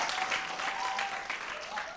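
Quiet audience applause at a youth performance showcase, a soft steady patter of many hands over two seconds, with a faint tonal line running beneath.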